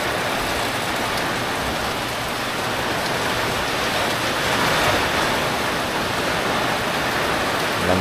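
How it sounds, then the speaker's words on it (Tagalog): Heavy rain in Batangas, Philippines pours steadily and densely, a constant loud hiss of drops hitting surfaces with no pauses and no voices. "Walang tigil ang ulan."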